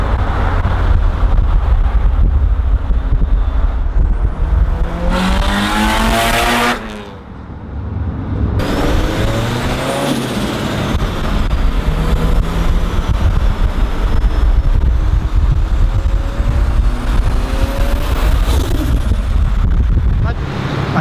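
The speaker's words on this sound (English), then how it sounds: "Bro, you hear that gate open" Loud car interior ride in a 325 kW Nissan S14 with a turbo engine, a sharp burst of high hiss around the middle as the wastegate vents over constant engine roar and wind buffeting, with talk over the top.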